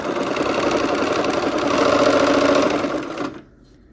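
A sewing machine with a quarter-inch foot stitches quilt half-square triangles, giving a loud, steady, close whirring hum for about three seconds before stopping abruptly.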